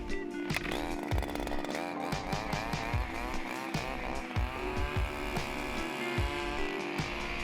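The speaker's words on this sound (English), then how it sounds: "let's get the auger going" A small two-stroke ice auger engine drills holes in the ice of a small northwoods lake, close and revving up and down in repeated bursts with sharp whining pitch sweeps.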